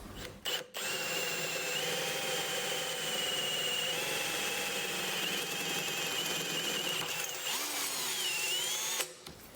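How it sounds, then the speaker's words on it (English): A power drill whines steadily for about nine seconds, loud and close, drilling out the bottom of a 1983 Yamaha IT490K dirt bike's metal frame with a high-pitched grinding tone that shifts near the end. "John's just going to quickly drill out the bottom of the frame"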